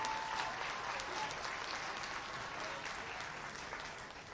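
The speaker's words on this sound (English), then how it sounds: "let's give these athletes a round of applause as they begin their tournament competition" Sustained audience applause greets young bowlers at the start of an under-17 girls' bowling tournament, a dense, steady patter of many hands filling a large hall at moderate loudness and easing slightly toward the end.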